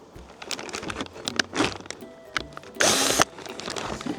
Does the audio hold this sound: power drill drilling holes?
yes